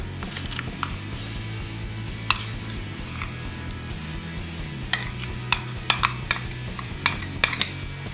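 Peanut butter and other wet ingredients for homemade trail bars being mixed in a medium pot make a soft scraping stir, with intermittent sharp clinks of a metal utensil against the pot that grow more frequent toward the end.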